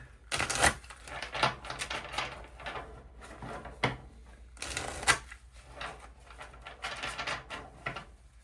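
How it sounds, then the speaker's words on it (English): Cards are shuffled close up in repeated riffling bursts, crisp flapping and snapping with short pauses between, no talking. "let me give the cards one more shuffle for this fine boy"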